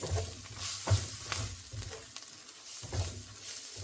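Ginger garlic paste and onions fry in a pan for cashew curry, with a steady sizzle broken by a few louder scraping stirs, close up and with no talking.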